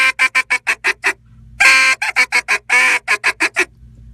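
A mallard duck call is blown in fast, evenly spaced quacking bursts that mimic teal, sharp and close, in rapid runs of quick notes broken by a couple of longer, louder honks.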